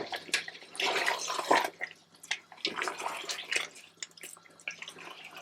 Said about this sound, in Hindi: तो उसमें पानी डालती हूँ मैं